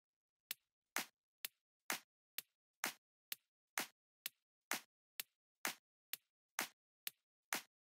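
Solo clap sample from a drum mix, struck sixteen times in a steady, even rhythm with sharp, bright, dry hits separated by silence, each carrying a small click at its onset.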